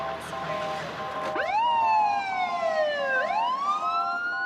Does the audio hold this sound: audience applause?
no